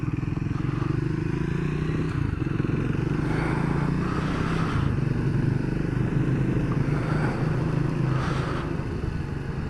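Triumph Speed 400 motorcycle riding through town, a steady close engine drone with wind and road rumble throughout, no speech.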